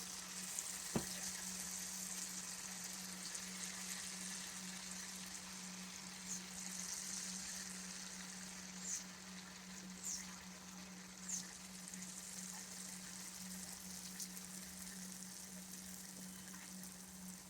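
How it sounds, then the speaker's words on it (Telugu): Rice flour punugulu batter frying in hot oil, a steady soft sizzle with fizzy high crackle holding evenly throughout, with a few brief louder pops and a low steady hum underneath. "మనకి ఆయిల్ వేడెక్కిందండి ఇప్పుడు మనము ఇందులో వేసుకుందాము"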